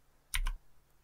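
Two quick keystrokes on a computer keyboard click close together in a single short burst against a quiet room.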